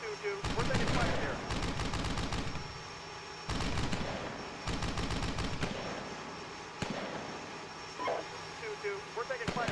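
Gunfire in a video game battle, with long bursts of rapid automatic fire that come in waves and pause in between, plus a few single sharp shots, all fairly close. Voices speak over the shooting at times.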